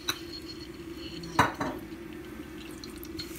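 Mutton curry gets stirred in a metal pot, the spoon scraping and clinking against the sides in a few sharp knocks, with one louder clatter in the middle over a quiet background.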